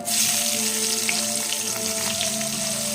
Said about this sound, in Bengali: মাছ ভাজার তেলেই আমি দিয়ে দিচ্ছি একটু কালো জিরে ফোড়ন, আর দিয়ে দিচ্ছি কাঁচা লঙ্কা চেরা